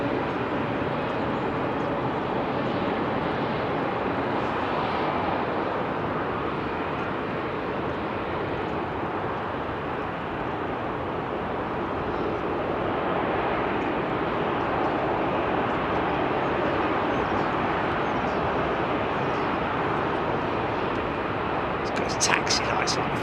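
Ex-KLM Boeing 747 Combi converted freighter taxiing at Heathrow, a steady broad roar of jet engines at idle thrust, sustained and moderately loud with faint wind noise.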